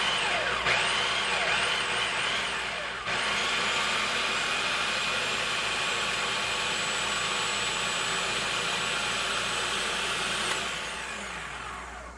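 A kitchen grinder hums loudly and steadily as it grinds chickpeas for croquettes, a constant motor whine that drops off near the end.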